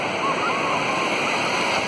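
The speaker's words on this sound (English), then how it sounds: "The old ceremonial dip in the Atlantic Ocean." Atlantic Ocean water off Morocco rushes and splashes in a dense, continuous wash during a dip in the sea, loud and close throughout.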